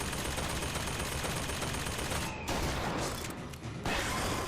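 Sustained rapid gunfire in the video game BioShock Infinite, loud and dense, aimed at a turret, with brief breaks in the burst.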